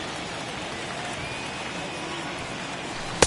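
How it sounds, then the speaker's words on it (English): Steady rain pours down over a ballpark during a night game in MLB The Show 21, a continuous even hiss filling the whole stretch with no voices, ending on a brief sharp click. "the rain starting to intensify here. It's coming down a little heavier now."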